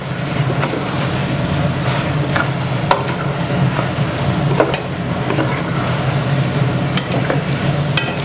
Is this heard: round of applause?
no